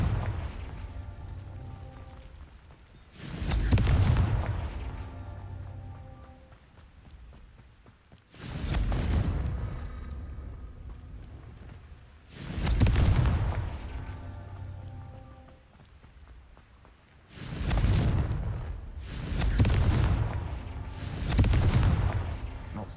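Confringo blast spells explode in Hogwarts Legacy, six loud booming bursts spaced a few seconds apart, the last three coming closer together, each with a rumbling tail that fades before the next.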